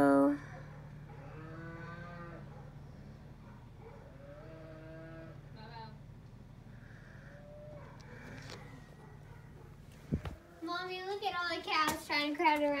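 Cattle at a calf roping event moo repeatedly in drawn-out, fairly close calls. A voice and other talk mix in, and the sound grows busier and louder toward the end.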